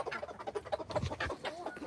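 Chickens and roosters cluck in a rapid, irregular series of short close calls, fairly quiet, with no talk over them.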